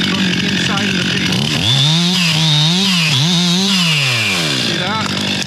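A chainsaw trims the hinge of a felled large tree top from the inside of the face, the engine revving up loud and close, holding a steady bogging whine as it cuts, then easing back to idle.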